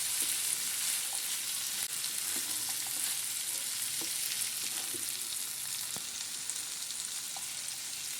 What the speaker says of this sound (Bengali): এটা কিন্তু খুব ভালো করে নেড়ে চেড়ে বেশ কিছুক্ষণ ধরে আমি এটা কষতে থাকবো যতক্ষণ না ফুলকপি আলু সেদ্ধ হয়ে আসে।